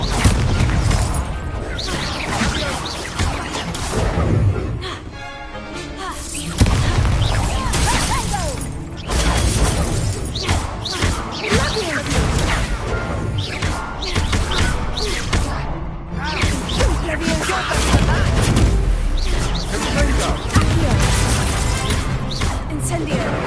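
Spell effects in a Harry Potter video game burst and whoosh almost without pause, with loud booms and crashes layered under excited shouting of spell names over dense game sound.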